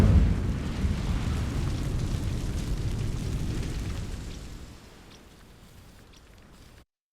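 The Incendio fire spell in Hogwarts Legacy erupts as a loud, dense roaring whoosh of flame that holds for several seconds, then fades to a quieter crackle before cutting off.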